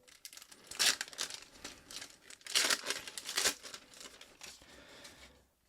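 Savage Crucible trading card packs torn open, loud crinkling foil wrappers and ripping bursts close up, several rustling episodes one after another with no talking.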